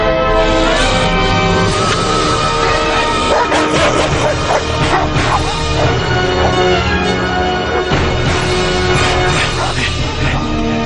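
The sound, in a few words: dogs barking in a cartoon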